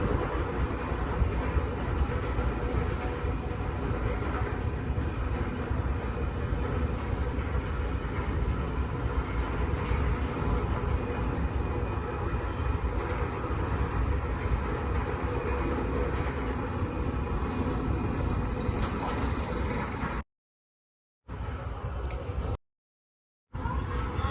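Valravn roller coaster at Cedar Point heard as a continuous low rumbling rattle of cars running along the track, steady and fairly loud, with a couple of brief cutouts near the end.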